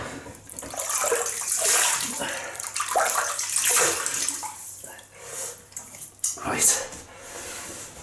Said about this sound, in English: before I just rinse the face.